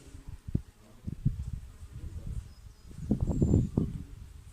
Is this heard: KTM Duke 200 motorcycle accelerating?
no